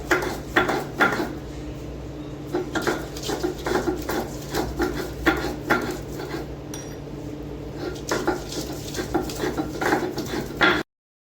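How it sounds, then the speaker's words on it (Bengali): Ginger and garlic being ground into a paste for chicken, repeated rhythmic scraping and knocking strokes close by with clattering pauses between them. "তো আদা রসুনগুলো বেটে নিই।"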